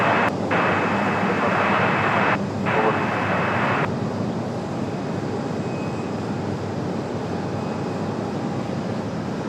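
Airplane taking off from runway 23 left at Raleigh-Durham International, a sustained broad engine roar that is loudest at first, then eases into a steadier, quieter rumble.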